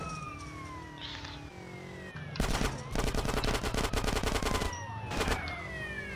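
M4 rifle fire in GTA San Andreas Definitive Edition, long rapid automatic bursts with sharp repeated cracks over a background of game traffic and a wailing police siren.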